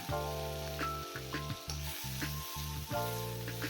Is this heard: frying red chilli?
yes